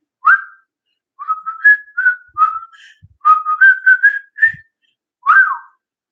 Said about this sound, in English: Can I whistle?